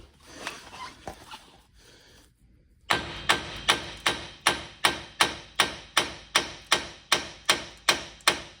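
A hammer strikes a steering tie rod on a second-generation Cummins truck, fourteen or so loud, evenly spaced metallic whacks in a steady rhythm, after a few seconds of quieter handling and rustling.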